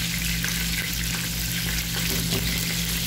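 Chicken drumsticks fry in hot oil with a dense, constant bubbling sizzle, loud and close, with no voices over it.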